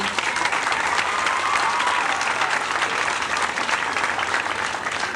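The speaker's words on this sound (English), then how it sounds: "maybe you need to join me in a round of applause to all the 6th grade parents on the committee" A round of applause for the sixth grade parents at a 1986 school graduation party, a steady wash of clapping from a seated crowd, continuous and fairly loud with no break.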